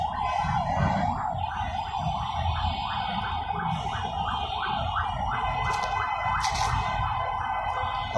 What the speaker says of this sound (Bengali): তারপর অ্যাম্বুলেন্সের সাইরেন শুনতে পাচ্ছেন